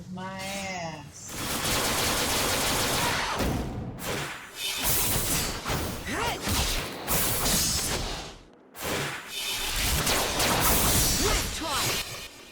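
Gunfire from Phantasy Star Online, sounding as long stretches of dense, rapid shooting mixed with crashes and whooshes, loud and nearly continuous with brief pauses, and a voice heard at the start.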